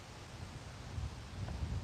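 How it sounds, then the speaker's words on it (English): Steady outdoor wind gusting against the microphone, a low, fairly quiet rumble and rustle with no talk. "Let me get over here because it's getting windy."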